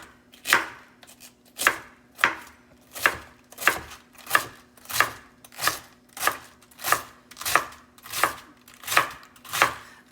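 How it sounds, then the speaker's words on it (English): A knife slices through a whole head of cabbage, cutting it into shreds for kalua pork, with about a dozen evenly spaced crisp chops on a board, close and clear with no talk. "we just want to take some slices and do it into shreds."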